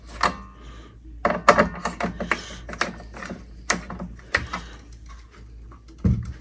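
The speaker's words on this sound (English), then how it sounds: "Just gonna undo the screw." Small scraping and clicking taps from a screwdriver working the screw on a fire alarm pull station, irregular faint bursts close up in a quiet room.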